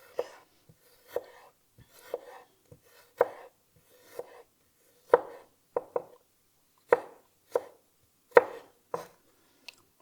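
Garlic sliced thinly with a knife on a board, a series of about a dozen crisp, evenly spaced taps, some doubled, close and clear against a quiet background.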